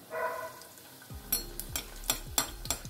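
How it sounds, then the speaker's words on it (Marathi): Veg crispy rolls deep-frying in oil over a low gas flame, a soft sizzle beneath a run of sharp utensil clinks and taps against the pan, close and fairly quiet. "आता काढून घेऊया आणि दुसरे तळायला घेऊया"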